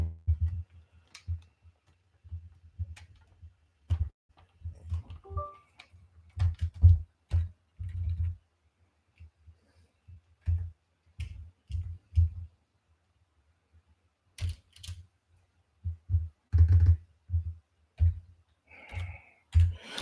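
A computer keyboard is typed on during a live election stream, producing sparse, irregular bursts of soft clicks and taps with short pauses in between, fairly close and quiet, with no talking.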